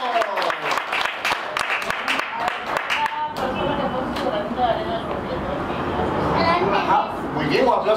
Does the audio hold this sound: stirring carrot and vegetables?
no